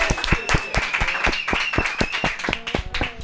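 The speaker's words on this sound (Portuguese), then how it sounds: "Uma salva de palmas pra ela." Studio audience clapping for the winner of a game on a Brazilian talk show, a dense burst of individual hand claps close by, steady and lively for the whole stretch.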